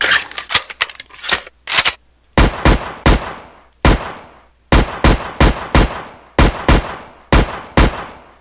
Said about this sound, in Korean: 마지막으로 한번 테스트를 해볼게요. 총을 쏘고 그레네이드를 던지고 하는 것들을